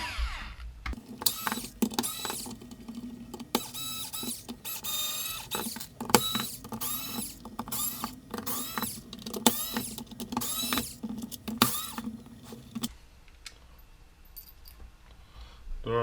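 Casing of a Bosch Powerpack battery being opened during a BMS repair, rapid close clicks, creaks and plastic snaps in dense bursts for about twelve seconds, then quieter handling noise, with no speech.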